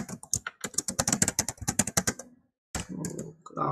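Computer keyboard typing while filling in a web registration form, a close burst of rapid key clicks, then a pause and a few more keystrokes against a faint background.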